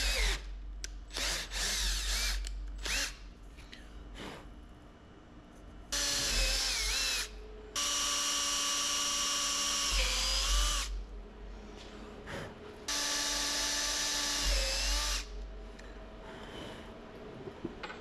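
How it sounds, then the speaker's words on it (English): A power drill bores into cast iron or cast steel without lubricant in several bursts, its motor whining steadily during each run, with short pauses and clicks between passes. "This appears to be cast iron or cast steel, so it's nice and easy to drill."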